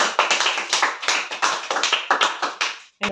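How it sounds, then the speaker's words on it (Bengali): A small group clapping hands in quick, uneven bursts at close range during a home number-finding game, loud and sharp, pausing briefly before a final clap. "সবাই হাততালি দাও"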